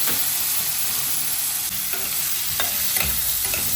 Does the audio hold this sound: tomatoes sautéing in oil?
yes